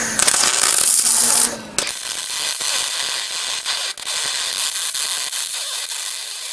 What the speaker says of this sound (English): Starting welding.